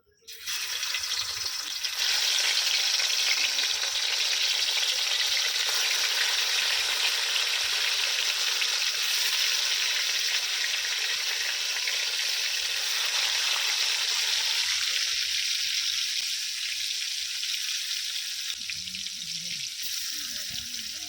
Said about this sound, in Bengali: তেলটা আমার গরম হয়ে গেছে এবারে আমি মাছগুলো দিয়ে দেবো